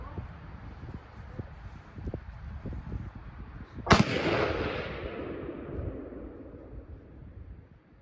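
A single sharp, loud crack from an accurized .22 LR rifle rings out midway and trails off into a brief decay, over steady outdoor background noise.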